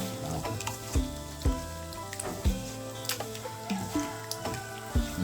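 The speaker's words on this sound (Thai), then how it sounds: "ผัดใส่เลยจ้า ผัดกระแยง กระแยงใส่ ต้นหอม ผัดกระแยงไว้" Chicken offal is stir-fried in a pan with spring onion and kaffir lime leaves: a soft background sizzle broken by regular sharp knocks and scrapes of the utensil against the pan, roughly every half second.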